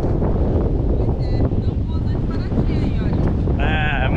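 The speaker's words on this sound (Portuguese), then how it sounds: "É, muito vento" Strong wind at a beach buffets the microphone with constant loud roaring gusts, and a voice speaks briefly near the end.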